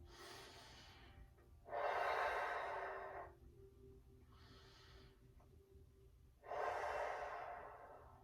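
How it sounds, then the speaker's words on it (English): Slow, deep breathing during a neck and shoulder stretching exercise, long airy inhales and exhales alternating, close and soft, with no talking. "hold it and continue that deep breathing"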